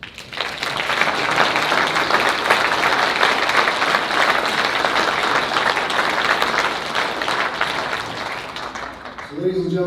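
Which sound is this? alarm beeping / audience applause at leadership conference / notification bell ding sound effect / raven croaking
audience applause at leadership conference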